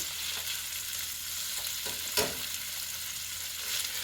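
Breakfast mash of a few simple ingredients frying in olive oil in a cast iron skillet over raised heat, giving a steady close sizzle with a single sharper scrape or stir partway through and no talking.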